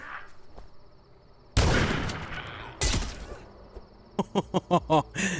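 Shotgun blasts in The Last Stand: Aftermath: two loud, booming single shots a little over a second apart, then a rapid run of sharp cracks and clatter, all close and over a quiet background.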